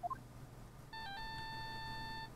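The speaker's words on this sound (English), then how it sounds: "That's your cell phone." A cell phone ringtone from the video game Phoenix Wright: Justice for All sounds as a short rising run of electronic beeps, then a sustained bright synthetic tone lasting over a second, clean and alone.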